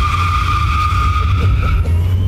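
Loud, sustained tyre screech from a Porsche 914 converted to electric drive, with steady high squealing tones over a heavy low rumble lasting the whole moment, close and uninterrupted.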